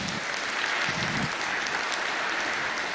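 Audience at a high school graduation ceremony breaking into steady, dense applause that fills the hall, with no voices standing out.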